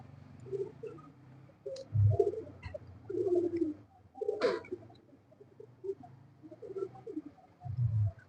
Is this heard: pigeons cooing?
yes